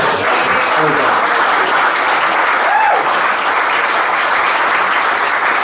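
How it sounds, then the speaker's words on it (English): Loud, sustained applause from a large crowd at a golf club captain's prize presentation night, a dense even wash of clapping with a brief voice or whistle rising faintly in the middle. "So we'll give him a big bowl of applause"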